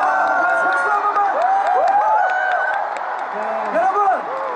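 A large concert crowd at a singer's 50th anniversary show cheers loudly, with shrill rising screams and whoops over steady clapping, filling the whole stretch without a break.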